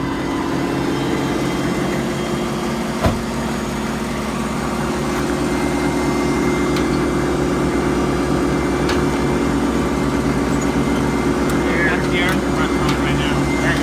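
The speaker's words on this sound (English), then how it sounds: "That's the air compressor you hear right there." An air compressor runs steadily with a constant mechanical hum and drone, joined by a faint click and occasional light knocks, alongside work on a Chevy crane truck.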